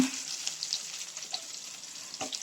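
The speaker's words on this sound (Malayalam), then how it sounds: "ഇനി നമുക്ക് ഇതിനകത്തേക്ക് കറിവേപ്പില കരിയാപ്പില ഇട്ട് കൊടുക്കാം" Curry leaves go into hot oil with ginger and garlic for a restaurant-style beef curry, giving a soft, steady sizzle and crackle close by, with a few faint spatters and stirring sounds.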